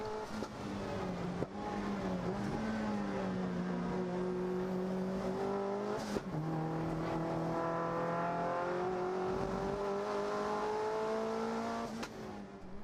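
A race car takes the first two corners at speed at Winton Raceway, its engine holding a steady, loud onboard drone that dips and climbs with gear changes and a couple of sharp shift blips.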